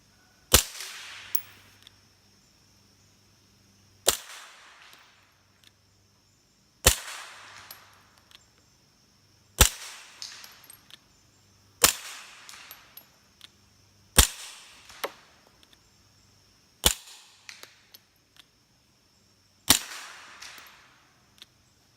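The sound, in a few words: suppressed pistol shots with Aguila 124 grain ammunition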